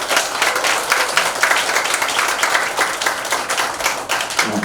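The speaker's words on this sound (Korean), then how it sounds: "큰 박수로 맞이해주시기 바랍니다" An indoor audience claps steadily to welcome a speaker at a lecture, dense continuous applause filling the room without a break.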